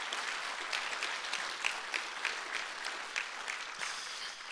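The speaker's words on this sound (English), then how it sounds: "let's give one more round of applause for all of our students who came up and shared" A community gathering applauds students who came up to share, a soft, somewhat distant round of many hands clapping with a few crisper claps rising above the steady patter.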